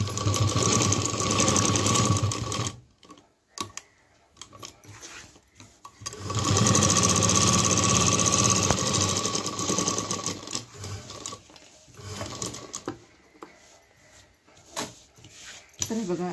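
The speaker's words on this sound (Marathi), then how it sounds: "तर इथे आपल्याला डबल टिबल शिलाई मारून घ्यायची आहे झिगझॅग करून।" A domestic sewing machine runs a double zigzag stitch along fabric for a homemade tiffin lunch bag, two long loud rattling runs split by a brief stop, with quieter stop-start stitching near the end.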